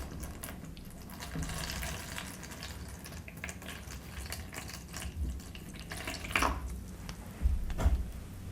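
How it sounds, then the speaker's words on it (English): Warm water is poured onto clay, a soft, continuous splashing and trickling with a few louder gurgles and drips, fairly quiet and close, with no speech. "And now I'm going to add water. This is warm water."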